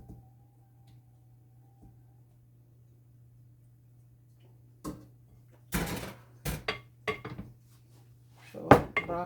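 Broccoli and string beans dropped into a cooking pot, a series of sharp clatters and knocks of vegetables and utensils against the pot, close by, after a quiet start with a steady low hum.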